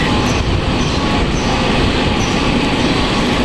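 A train rolls through a station in Zürich, a loud, continuous rumble of wheels on rails with faint squeals and clatter, close by and steady throughout.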